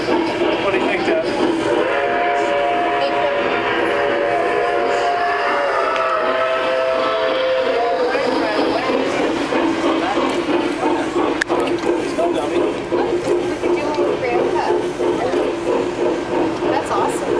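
A train passing in San Diego, a steady rumbling rolling noise with a whistle-like tonal note early on, heard from moderate distance while people talk over it.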